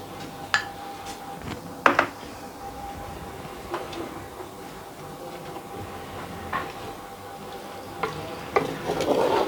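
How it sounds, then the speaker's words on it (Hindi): Boneless beef roasting in vanaspati ghee in a karahi, a faint low sizzle under repeated metal scrapes and clinks of a stirring spoon against the pan, with sharper knocks at intervals; no speech. "मैं घी को डाल के इसकी भुनाई करूँगी।"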